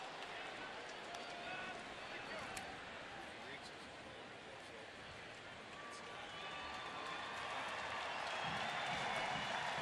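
A baseball crowd of more than 23,000 at Progressive Field keeps up a steady, distant roar that swells slightly toward the end, with faint commentary running underneath.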